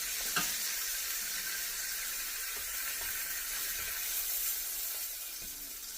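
Beef osso buco searing in a pan gives a soft, steady sizzle and hiss with a few faint clicks, fairly quiet and with no talk.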